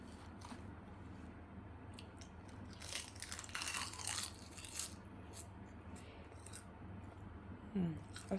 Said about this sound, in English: ASMR eating seaweed.